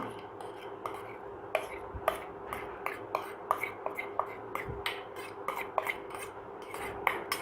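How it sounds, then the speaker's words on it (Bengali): Spice paste being worked into raw goat meat for a marinade, with soft wet rubbing and squelching plus a string of small clinks, steady and close for several seconds, no talking. "প্রথমে আমি এইটা পেস্টটা মিশিয়ে দিচ্ছি"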